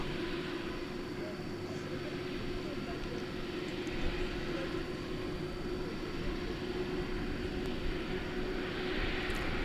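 An airliner on flight 732 to Doha at DFW airport at night gives off a faint, distant and steady engine drone that holds a constant low hum throughout.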